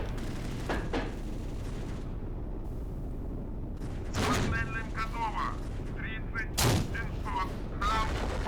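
A KV-1E tank cannon fires at a Panzer II in a World War II tank simulator game, giving several sharp, heavy reports spread across the stretch along with mechanical clanks. People talk between the shots.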